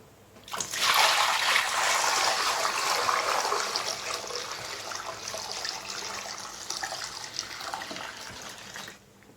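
Water gushes from a tap into a plugged sink basin, a loud steady rush that gradually softens as the level rises, then stops abruptly.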